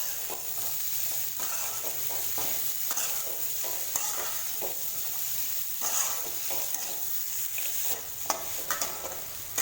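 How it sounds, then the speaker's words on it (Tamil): Vegetables with beans are stirred into masala in a frying pan for vegetable kurma, a steady close sizzle broken by repeated scraping strokes of a spoon, with no talking. "வெஜிடபிள்ஸை நல்லா மசாலாவோட நல்லா மிக்ஸ் பண்ணி விடுங்க"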